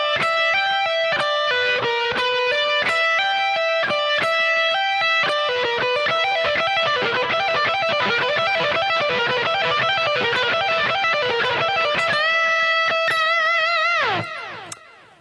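Electric guitar with distortion plays a slow pentatonic blues scale lick, loud and close, with sustained bent notes and a steady melodic line that rings out and cuts off near the end, no talking.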